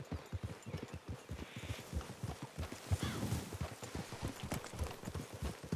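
Horse hooves clip-clop in a steady walking rhythm in the Red Dead Redemption 2 game, several animals moving together, fairly close but soft, with a brief rustle midway.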